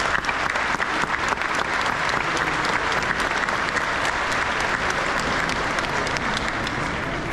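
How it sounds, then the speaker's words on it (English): Sustained applause from a large audience at a store opening at a shopping centre, dense and even throughout. "I'd like to give them a hand of applause."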